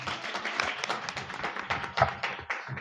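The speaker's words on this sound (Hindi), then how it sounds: "सब ताली बजाएं परमेश्वर की महिमा के लिए।" A church congregation claps together during a Hindi worship service, a dense, steady patter of many hands with uneven accents, fairly close and moderately loud, with no talk over it.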